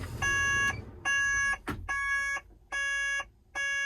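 A vehicle dashboard warning buzzer beeps repeatedly in a steady on-off pattern of five evenly spaced tones. Each tone lasts about half a second and sounds moderately loud inside the cab, with a short thump heard between two of the beeps.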